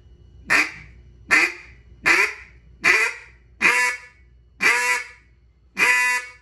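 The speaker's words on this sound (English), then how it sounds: "I'll quack on the call, and then I'll start getting to the first note." Duck call blown in seven evenly spaced, loud quacking notes, each a short nasal blast with a trailing drop, rising into the first note of a takeoff sequence, with no talking.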